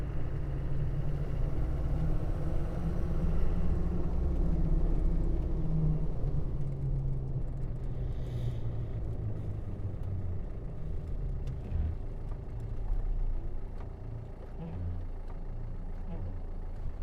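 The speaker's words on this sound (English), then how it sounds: "Listen to those tires." A classic Land Rover Defender 130 with a five-speed manual gearbox rolls along, its tire roar and low engine rumble steady and close throughout, with a few faint knocks from the cabin.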